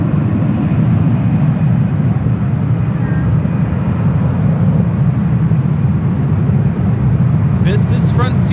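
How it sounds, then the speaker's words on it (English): A Frontier Airbus A321neo airliner arriving at LAX from Philadelphia, heard as a loud, sustained broadband jet roar that stays constant throughout, with a brief higher chirping sound near the end. "This is Frontier 3587 coming in from Philadelphia on the A321neo"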